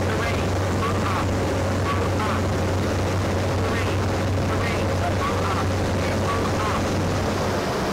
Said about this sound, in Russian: И пилот уже заходит на посадку.